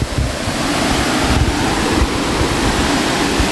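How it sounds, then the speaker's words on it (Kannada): Burude Falls, a hidden waterfall in summer, pours water in a loud, unbroken broadband roar heard close up, with some wind buffeting the microphone and no voices. "ನೋಡಿ ಈ ಕೆಳಗೆ ಬೋಗೆ ಫಾಲ್ಸ್"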